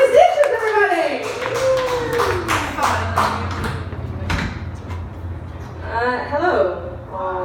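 A few scattered claps from a small comedy-club audience greet a comedian taking the stage. The thin, uneven claps come under and between ongoing talking.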